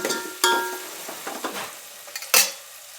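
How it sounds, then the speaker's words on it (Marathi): Ground ginger-garlic paste sautés in a pan with tomatoes for khichdi, with several sharp sizzling bursts and spoon scrapes spread over a few seconds, close and moderately loud. "चला आपण ना अद्रक लसूण जे वाटलेलं आहे ना ते टाकून घेऊया आता. छान परतून घ्यायचे आपल्याला."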